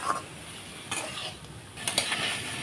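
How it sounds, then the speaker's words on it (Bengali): Chilli, boiled carrot and lemon juice stirred together in a frying pan for chicken fried rice: a low continuous sizzle with a few spatula scrapes and clinks against the pan. "সবগুলো আমি নেড়ে চেড়ে ভালো করে মিশিয়ে 2 থেকে 3 মিনিট রান্না করব।"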